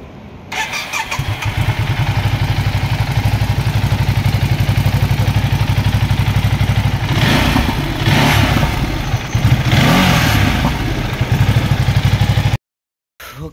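A Ducati superbike fires up and revs, its loud close engine rumbling with a throbbing idle, then climbing in a few sharp throttle blips before cutting off abruptly near the end.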